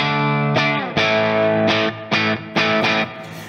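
An electric guitar played through a tube amplifier with the preamp pushed into breakup, giving a series of loud, gritty distorted strummed chords, each ringing out before the next one hits.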